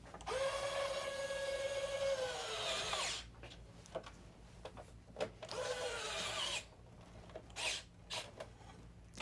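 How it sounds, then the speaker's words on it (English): An electric screwdriver with a weakening motor tightens screws on a PS5 console, two whirring bursts several seconds apart, close by, separated by quiet handling clicks and rustles. "I think our screwdriver might be dying."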